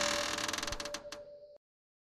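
A door creaking open in the horror game I Want To Die: a drawn-out, stuttering wooden creak with a steady tonal groan beneath it, close and fairly quiet, ending abruptly in silence.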